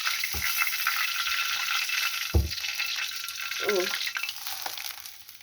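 Pork belly sizzles in a pan with a steady bright hiss, broken by a few close knocks and scrapes of a utensil.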